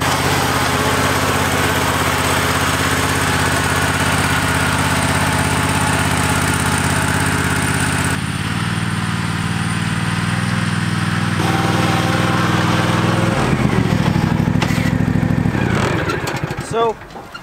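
A cheap riding lawn mower's small engine runs steadily under load while pulling a load of sand as dead weight, a loud continuous drone that shifts in pitch partway through and drops off toward the end.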